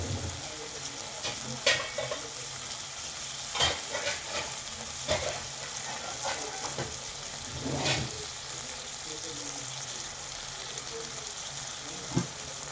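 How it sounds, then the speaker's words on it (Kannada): Potatoes and okra fry in oil in a pan with a continuous loud sizzle, broken by occasional scrapes and clacks of stirring. "ಆಲೂಗಡ್ಡೆ ಮುಕ್ಕಾಲು ಭಾಗ ಬೇಯೋವರೆಗೂ ಬಿಟ್ಬಿಡಿ ಇದನ್ನು. ಇದು ಚೆನ್ನಾಗಿ ಎಣ್ಣೆಯಲ್ಲಿ ಬೇಯಲಿ."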